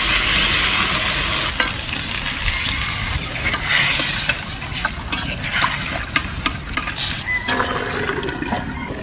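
A 1.4 kg sole fish cooks in a pan with mustard oil and bay leaves, sizzling and bubbling loudly and steadily while a utensil stirs and scrapes through it.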